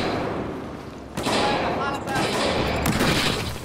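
Video game gunfire from Battlefield 4 on the Hainan Resort map, a dense burst of shots and thuds that thickens after the first second and keeps going, mixed with other game noise.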